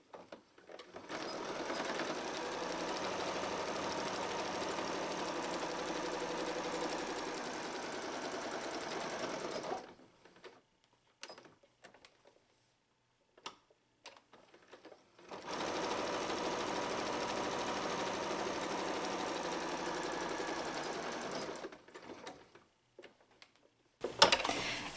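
A sewing machine stitches around the perimeter of a purse made from blue jeans. It runs in two long, steady, close-up bursts of about eight seconds each, with a quiet pause of scattered small handling noises between them.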